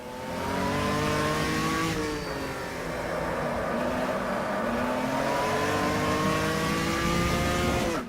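A Puma GTB race car in the Automobilista racing game revs loudly and continuously through a corner, the engine note dipping and climbing again as it accelerates out, with a faint tire squeal.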